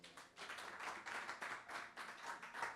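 A church congregation applauding in praise, with steady rhythmic clapping from a crowd, fairly faint and slightly distant, with no talk over it.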